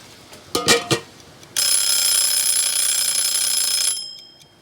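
Kitchen timer alarm set for processing canning jars of salsa: a steady, loud electronic ringing runs for about two and a half seconds, then cuts off, with a few brief clatters just before it starts.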